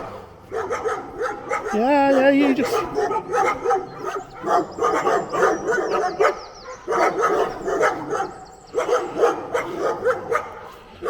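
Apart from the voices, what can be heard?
dogs barking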